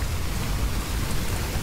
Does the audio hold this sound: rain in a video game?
yes